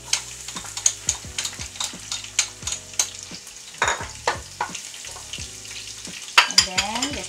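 Garlic and Chinese sausage fry in a pan for pansit, giving a close sizzle with repeated rhythmic scraping strokes of a utensil stirring against the pan, and no voices.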